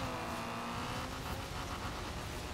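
A car tearing across rough off-road terrain in Forza Horizon 4, a constant loud engine drone with tire and gravel noise, steady and unbroken, no speech.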